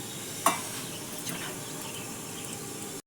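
Cauliflower florets fry in hot oil with a steady, close sizzling hiss, opened by one sharp clink of a utensil against the pan.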